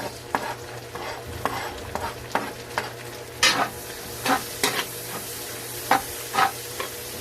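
Garlic and onion sauté in a pan for a birthday carbonara, a soft steady sizzle broken by sharp, irregular scrapes and clinks of a utensil stirring against the pan, with no voices.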